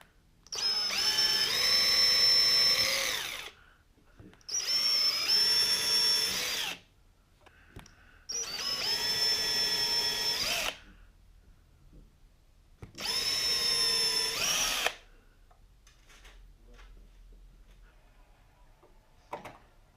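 A power drill whines through the metal top of a mini fridge in four separate bursts of a few seconds each, close by, with quiet pauses between them.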